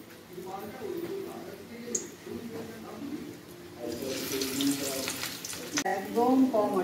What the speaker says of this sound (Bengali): এই যে মা কোফতাগুলো ভাজছে